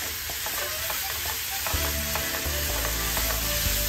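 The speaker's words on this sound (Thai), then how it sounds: "ใส่เนื้อลงไปเลย ผัดเลยนะครับ" Beef for a Philly cheesesteak stir-fries in a pan, a dense continuous sizzle filling the space, with a few utensil taps and scrapes close by and no one speaking.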